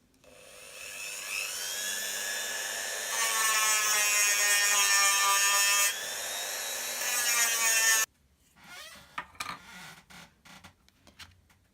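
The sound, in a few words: Dremel with sandpaper attachment sanding silver bezel cup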